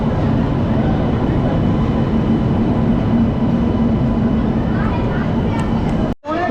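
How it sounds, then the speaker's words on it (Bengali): Kandari Express train arriving late at a busy station on the way to Digha, a loud continuous rumble of rolling wagons filling the whole stretch with crowd noise mixed in, cutting off briefly near the end. "এই সবে ঢুকছে ট্রেন, কান্ডারি এক্সপ্রেস"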